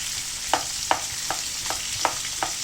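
Ingredients sauté in a hot pan under a constant sizzle, while a spoon scrapes through them in a regular rhythm of about six sharp strokes, close and clear with no talking.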